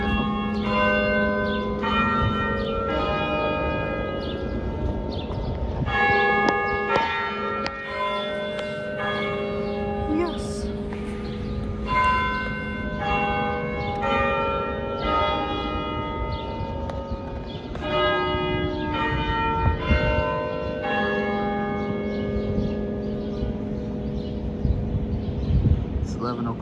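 A church bell peals steadily in Washington, D.C. at eleven o'clock, its overlapping strikes ringing out continuously and fairly loud, with faint street ambience and occasional low voices beneath.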